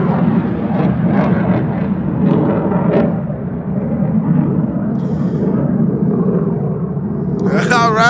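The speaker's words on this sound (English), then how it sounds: "Military jet. Military jet." A military jet flies overhead, a low continuous rumbling roar that stays steady throughout, with someone talking over it and a brief higher sound near the end.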